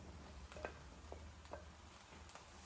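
Zucchini cooking in a pan for homemade ratatouille: a faint, steady sizzle with scattered soft clicks and scrapes from stirring, quiet and close.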